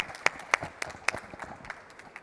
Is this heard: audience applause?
yes